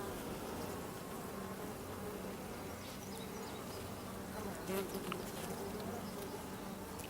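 A steady, dense buzzing of many honey bees on a hive frame fills the whole stretch, close and continuous with no talking.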